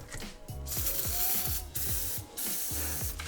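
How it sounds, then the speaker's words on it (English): Steady hissing spray from an aerosol can of penetrating oil on suspension bolts in bursts, over a rhythmic mechanical clicking and whirring in the background. "So I'm just spraying some PD Blaster on the bolts that we have to get loose"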